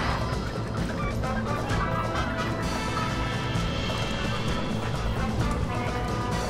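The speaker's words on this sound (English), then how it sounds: "Oh, okay, chicken." A chicken in the swampy Hunt Showdown video game clucks amid a loud, busy mix of gameplay noise, its calls blended into a dense, continuous din.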